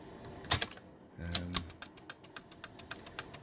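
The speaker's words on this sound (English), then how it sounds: "that thing right there, that's what's making the clicking, and it's making the clicking on here" A JVC HR-4100-EG video recorder rewinding, giving a steady series of sharp, evenly spaced mechanical clicks after a brief whir, close and clear.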